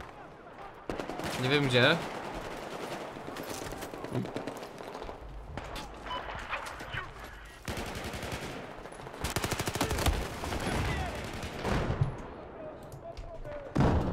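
Gunfire in a Battlefield 4 multiplayer match: scattered loud shots and bursts, some close and some distant, amid battle noise, with someone speaking briefly.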